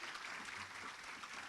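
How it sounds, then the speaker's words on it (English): Brief, faint burst of audience clapping at a women's empowerment breakfast event, a steady patter of many hands heard at a distance. "give them a round of applause"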